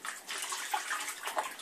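A dog being bathed in a bathtub makes soft, close water sloshing and splashing in quiet, uneven bursts, faint and brief, with no voices.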